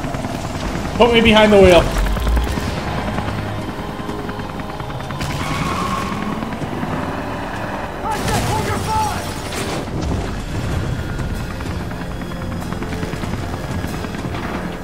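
A continuous helicopter rotor drone runs beneath a short spoken line, with scattered bangs and rumbling action around it, in the PS3 game Beyond: Two Souls.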